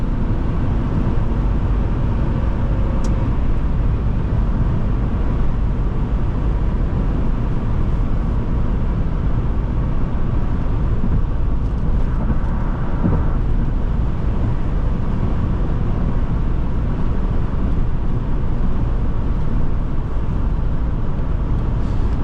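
A 2004 Ford Explorer with a 4.6L V8, heard from inside while driving: a loud, constant engine drone blended with road and wind noise that holds steady throughout.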